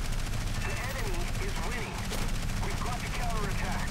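Rapid bursts of aircraft machine-gun fire in War Thunder crackle continuously beneath game noise and a talking voice, dense and steady throughout.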